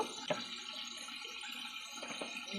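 Rasgulla with syrup pours into a bowl, a soft, steady liquid splash with a couple of light knocks, faint and close, no talk.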